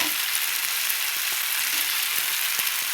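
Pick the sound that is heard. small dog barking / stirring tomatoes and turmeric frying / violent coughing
stirring tomatoes and turmeric frying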